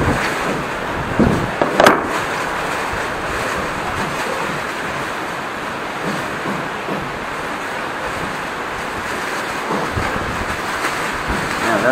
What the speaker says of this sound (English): The sea is rough